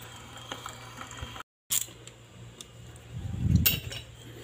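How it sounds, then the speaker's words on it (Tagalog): A bolt is fitted and tightened on an Ingco water pump during reassembly after a bearing replacement, heard as faint, close metallic clicks and small clatters with a brief silence and a louder rattle near the end. "Lagyan natin ng bolt tapos higpitan natin."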